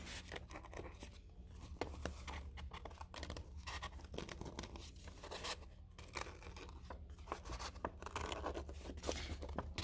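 Paper being punched and cut through with scissors for a color wheel craft, a steady, close scratchy tearing and snipping that runs throughout with only brief pauses.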